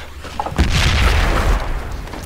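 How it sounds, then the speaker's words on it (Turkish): An artillery shell bursts close by in the video game Project Reality: a heavy boom erupts suddenly and rolls into a long, deep rumble that fills the rest of the moment. "Yok ya şey, top attıydı ya."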